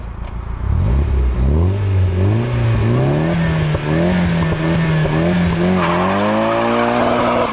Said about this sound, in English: High revs.